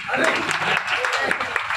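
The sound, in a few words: audience applauding loudly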